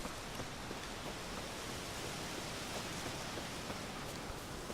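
Steady rain falls in The Witcher 3, a dense even hiss of drops with no breaks or variation across the few seconds.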